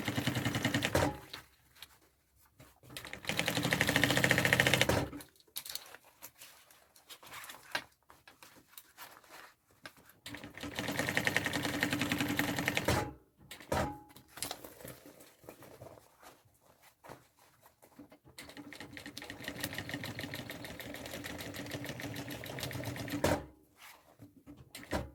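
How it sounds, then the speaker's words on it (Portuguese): A sewing machine stitching the other side of a bag and catching the lining, its motor whirring in several long runs with quiet pauses between them, close up. "Agora eu volto costurando o outro lado, prendendo o forro também."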